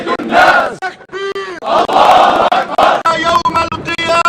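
A protest crowd at Al-Aqsa Mosque chants Arabic slogans in loud, rhythmic bursts, many voices rising together in repeated calls with short pauses between them.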